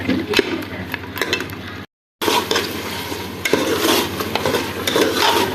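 Onion beef gosht roasts in a pot over a medium flame with a continuous sizzle and frequent scrapes and clinks of a spoon stirring against the metal, broken by a brief silent gap.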